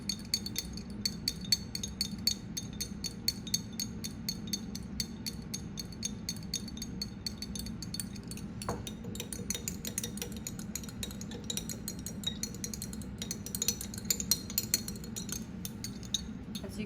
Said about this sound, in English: mix it with my salt, stir it.